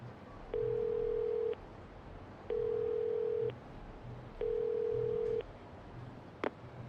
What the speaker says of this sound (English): Deposit change in the payphone and dial the numbers